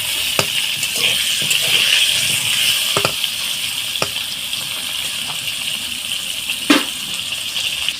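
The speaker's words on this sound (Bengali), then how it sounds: "এদিকে আমি ফুলকপিটাকে লাল লাল করে সুন্দর করে ভেজে নেব" Cauliflower frying in a pan gives a steady, close, bright sizzle throughout, broken by occasional clinks and scrapes from a spoon, with no talk.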